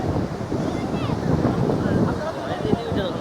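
Sea and wind noise at Cox's Bazar beach on a winter afternoon, with a water bike out on the waves; steady broadband surf and wind buffeting the microphone, fairly close, with faint voices nearby.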